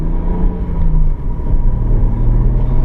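A 1990 Nissan Skyline R32 GTS-4 on a test drive, its engine and road rumble steady and loud from inside the cabin, with a low drone shifting pitch as it moves through the gears.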